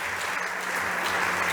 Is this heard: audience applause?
yes